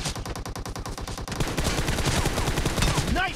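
Automatic rifle fire from PUBG Mobile in a 4vs4 town domination match with M416 and M762 rifles: rapid, dense bursts of shots crackling continuously and loudly, with quicker rattling volleys in the latter half.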